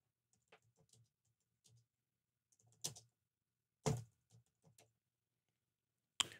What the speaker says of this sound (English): And in English, I'm going to try and type something.